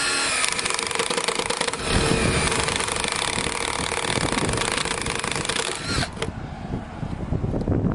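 A power drill whirs loudly and steadily up close as it bores a hole into wood for a gate, its grinding motor running continuously before easing off near the end.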